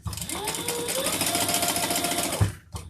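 A sewing machine runs in a steady rapid stitching rattle for about two and a half seconds, sewing down a cotton bag, close and clear, then stops with a brief thump.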